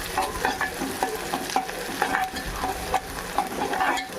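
Ingredients for Andhra mutton masala frying in a pan, a loud close sizzle broken by repeated scraping stirs in an uneven rhythm, with no voices.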